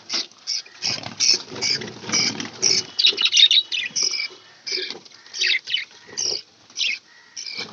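Budgies in an aviary with chicks in a nest box, giving bursts of high, scratchy chirps and chattering calls in irregular clusters separated by brief pauses, close and fairly loud, with no talk.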